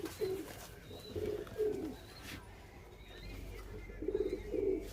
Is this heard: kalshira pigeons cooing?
yes